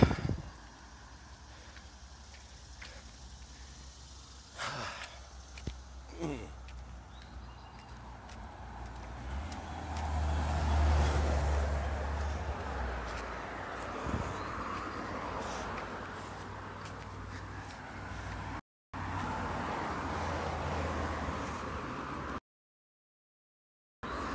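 Cars pass by on a nearby road, a steady low rumble of traffic swelling and fading as vehicles go past, with brief gaps of quiet.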